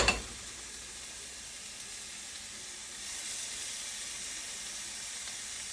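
Olive oil hits pork butt (pork shoulder) already cooking in a pan, setting off a steady loud sizzle and frying hiss that swells slightly midway and carries on alone with no talk.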